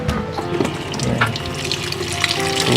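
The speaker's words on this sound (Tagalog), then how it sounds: "Tubig." Water pours steadily from a tap into a basin, a continuous splashing gush with some gurgling, close and fairly loud, running without pause and with no talk over it.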